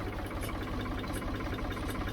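A Ford 3000 tractor engine runs steadily at idle with a dense, even mechanical rumble and faint knocking texture, close and continuous throughout with no voices.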